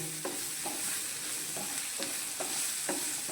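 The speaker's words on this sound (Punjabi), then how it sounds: "ਗੈਸ ਦੀ ਫਲੇਮ ਘੱਟ ਰੱਖ ਕੇ ਇਹਨਾਂ ਮਸਾਲਿਆਂ ਨਾਲ ਪਹਿਲਾਂ ਆਪਾਂ ਭੁੰਨ ਲੈਣੇ ਆ" Spices, including dried chilli and dried fenugreek leaves, sizzle as they are stirred and roasted in a pan over a low gas flame, with a steady fry and several distinct stirring scrapes.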